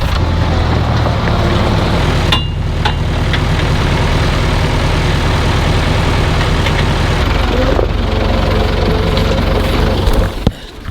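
A tractor engine, a model 885, idles steadily with a deep, continuous rumble, close by and loud throughout.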